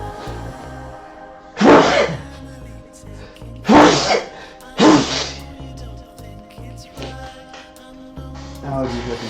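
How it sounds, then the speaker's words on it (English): Three sharp sneezes from a person with allergies burst out in quick succession at close range, followed by fainter throat and breath noises over a steady low hum. "I'm gonna sneeze."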